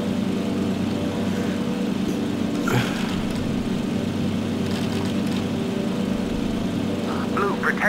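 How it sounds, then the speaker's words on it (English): WWII dive bomber and fighter engines drone in a Heroes over Europe aerial combat game, a steady loud propeller hum with faint distant bursts, and voices speak over it. "Protect that harbor, Blue Section. Take the dive bombers down."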